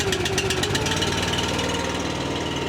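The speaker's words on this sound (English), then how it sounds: "Choke it once, give her a little bit of gas, it should fire right up." A small Honda engine on a firewood splitter runs loud and close, with a fast, rough chugging throb and a brief higher whine early on, steady throughout with no voices.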